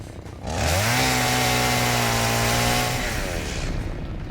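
A chainsaw in the video game Satisfactory revs up to a loud, steady buzzing whine, holds for about two seconds, then drops back to a rough idle.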